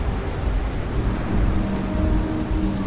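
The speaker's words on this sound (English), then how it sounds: "More lightning came, more thunder, more rain" Steady heavy rain with rolling thunder, a thunderstorm sound effect in a ghost-story audio drama, continuous and full without any voices.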